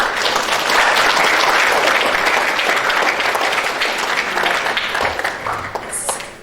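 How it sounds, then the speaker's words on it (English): An audience at a Q&A panel applauds in a dense, loud burst of clapping that holds steady for several seconds, then gradually thins and fades toward the end. "Could you please give them a round of applause?"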